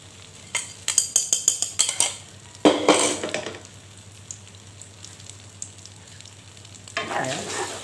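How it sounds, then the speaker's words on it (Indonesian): Eggs go into hot cooking oil in a pan. A few quick taps and scrapes come first, then a sharp burst of sizzling that settles to a steady low frying hiss and swells again near the end. It is close and fairly loud, with no talking. "Kemudian kita masukkan telur dahulu."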